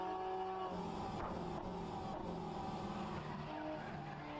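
Hypercar engines in rFactor 2 racing simulation, a steady loud roar with tire skidding as the car brakes hard, engine tone shifting down through gears with brief transient clicks.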